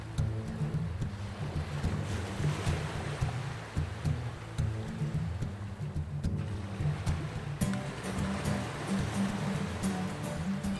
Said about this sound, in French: pour s'y rendre, il faut emprunter le bateau, depuis la pointe de la Fumée à Fouras